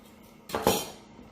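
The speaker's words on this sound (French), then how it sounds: "Nous sommes en train de couper notre viande." Knife drawn through a rare beefsteak on a plate, a single short scrape and clink against the dish, close and clear in a quiet room.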